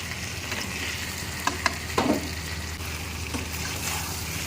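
Mutton and potatoes fry in oil in a pan, giving a steady close sizzle with a few sharp clicks and a brief stirring rustle near the middle, no voices.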